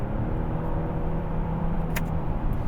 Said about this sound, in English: So you can hear it like revving up a little bit higher